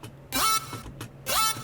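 Synthesized tone sweeping upward in a formant-like glide through a reverb filter, played in two separate bright bursts with a short gap between them.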